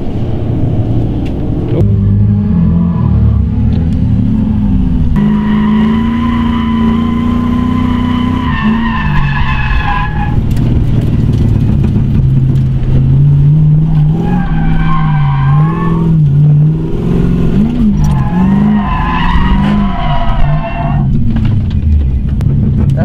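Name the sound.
LS-swapped Nissan S13 coupe drifting, tires skidding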